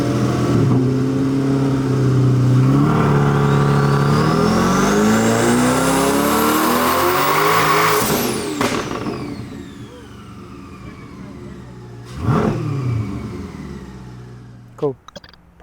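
A twin-turbo C8 Corvette engine run by a FuelTech FT600 revs loudly up to a high-pitched peak, drops off, then gives a further sharp rev and a couple of brief blips near the end.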